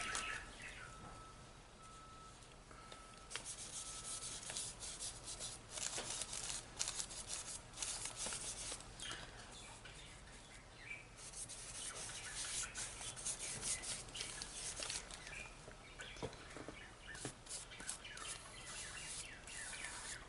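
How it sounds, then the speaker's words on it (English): A cloth wiping excess paint off a small graffiti canvas, heard as a continuous close, scratchy rubbing and scrubbing that varies in pressure, with faint birdsong in the background. "I'm just wiping off the excess paint down here."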